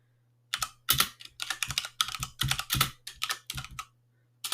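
Someone types a project name on a computer keyboard, brisk bursts of crisp, close key clacks in uneven clusters with short pauses between, over a low steady hum.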